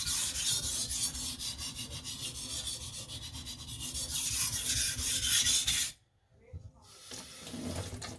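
A knife blade is drawn repeatedly across a wet sharpening stone, producing rhythmic, close rasping strokes that stop abruptly for a moment before faint scraping resumes.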